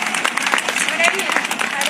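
Hearty applause from an audience of women at a gathering of anganwadi workers, a dense, steady clatter of many hands that runs the whole time, with voices mixed into it.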